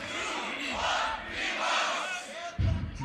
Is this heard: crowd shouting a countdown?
yes